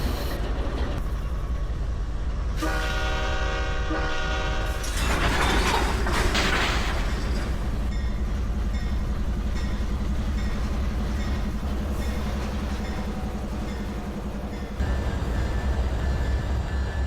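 A train runs steadily on a California railway, a continuous loud mechanical rumble and clatter of wheels on track, with a brief high whistle-like tone early on and no talking.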